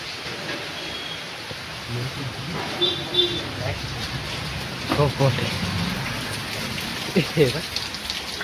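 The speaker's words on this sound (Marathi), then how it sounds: "सगळा पाऊस पडतो, सगळं पाणी" Steady rain falling and pattering on surfaces, a continuous wash of drops with a few louder splashes and faint voices in the background.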